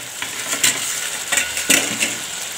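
Curry sizzles steadily in a pan while a spoon stirs it, giving a few distinct scraping strokes close up over a constant frying hiss.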